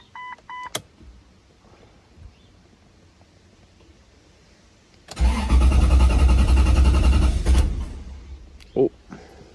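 A cold Jeep XJ fitted with a Toyota 1UZ-FE V8 cranks and fires up loudly at close range, its engine roaring for about two and a half seconds before cutting back, following a few quiet electronic beeps.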